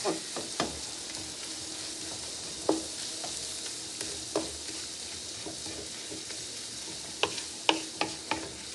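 Cheesesteak beef frying on a hot griddle, a steady close sizzle broken by sharp scraping taps and clinks of a spatula, irregular and loudest near the end, with no talking.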